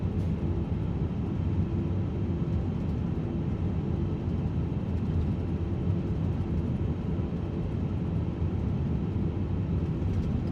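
Airbus airliner engines in Microsoft Flight Simulator 2024, a steady low roar and rumble held at constant loudness throughout, with no voices over it.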